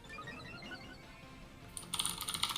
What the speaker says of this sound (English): you're probably hearing a lot of typing